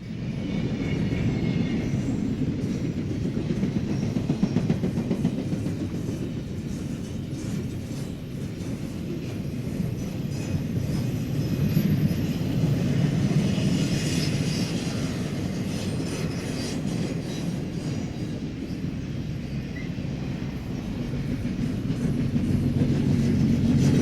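Freight train TV-203 rolls through Berea at night, a loud, steady rumble of wagons and clacking wheels that fills the whole stretch with faint squeals above, no voices.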